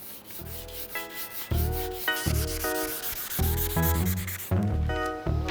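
A sanding block with 500 grit paper rubs over a repaired car body panel in a restoration workshop, repeated close scraping strokes in a steady back-and-forth rhythm.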